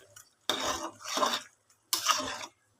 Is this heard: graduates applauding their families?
no